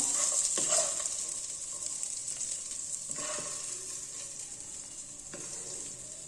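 Raisins frying in ghee in a pan while sheer khurma is being prepared, a steady close sizzle that runs without pause, broken by a few scraping stirs and the clatter of a utensil.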